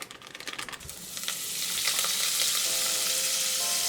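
Butter melting in a saucepan over medium heat for a homemade chicken Alfredo sauce, a steady close sizzle that builds from soft crackles into a continuous hiss.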